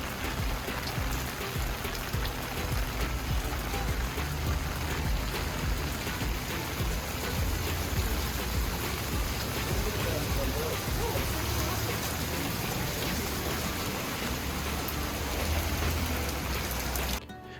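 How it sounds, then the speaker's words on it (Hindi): Steady rain falls outdoors in a German-style town, a dense continuous patter close by that holds at an even level until it cuts off at the end. "क्योंकि बाहर अभी भी बरसात हो रही थी"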